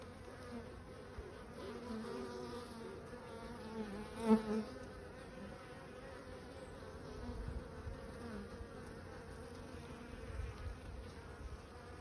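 Buckfast and Irish Black honey bees buzz around an open hive, a faint, continuous hum with one louder pass close by, and no one speaking.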